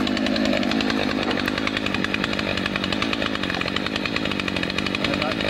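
A chainsaw revs continuously and loudly during tree felling, its engine holding a steady high drone with fine rhythmic chain rattle throughout, close by and alone.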